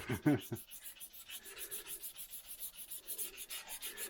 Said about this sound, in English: I'm polishing the shaft.